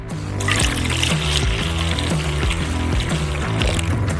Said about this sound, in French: Versez du lait dans un bol.